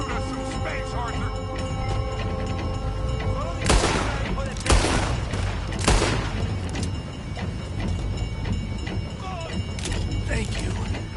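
Gunfire in the video game Red Dead Redemption 2: a few loud, sharp shots crack out near the middle, with spaced gaps between them, over steady background music and ambience, with voices faintly present.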